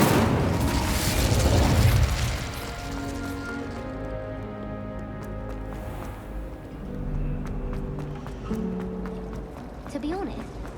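An Incendio fire spell bursts in Hogwarts Legacy with a loud, roaring blast up front. It fades into crackling, echoing game effects over a low musical drone, and a voice talks over it.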